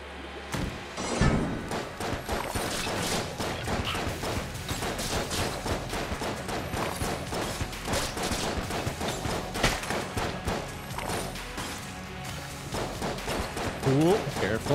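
Rapid bursts of panic-weapon gunfire in the Enter the Gungeon game, with dense dull thumps running throughout and a voice talking over the shooting.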